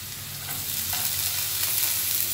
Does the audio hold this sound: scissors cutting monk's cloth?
no